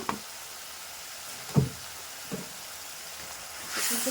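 Spices for a prawn curry, with salt and turmeric, fry and are stirred in a pan: a soft continuous sizzle broken by a couple of brief knocks of the stirring spoon, nothing else prominent.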